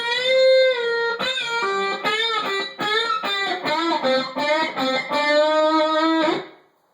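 An electric guitar plays a distorted solo phrase full of bent notes sliding up in pitch, close and clear, ending on a held note that fades.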